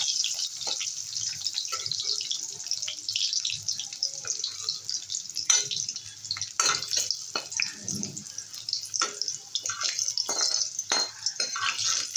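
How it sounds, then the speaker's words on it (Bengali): Hissing and sizzling of garlic and green chillies frying in oil, a steady crackle with occasional sharper pops and clinks throughout. "এবারে রসুন আর কাঁচা লঙ্কাগুলো ভেজে নেব।"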